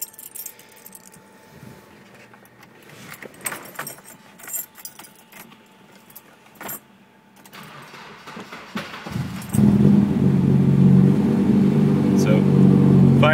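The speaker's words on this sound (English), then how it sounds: "Inside the car, let's give it a start and see how it goes" Keys jangle and clink inside a BMW 2002 tii, then the engine cranks and fires eagerly, settling into a loud, smooth, steady idle up close.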